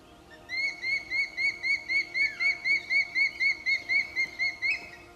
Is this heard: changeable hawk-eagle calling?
yes